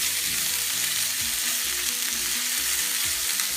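Crunchy vegetables for a chicken stir fry hit a hot pan and sizzle loudly and continuously, a dense frying hiss with faint stirring clinks underneath.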